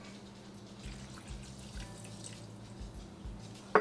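About half a cup of water is poured into a pan of kadai mixed vegetable gravy, a soft, steady trickle and splash heard close up at low volume, ending with a brief clatter.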